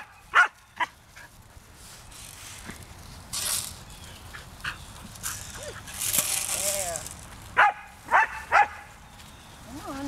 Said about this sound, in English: Is he barking out of excitement or he's trying to tell the sheep what to do?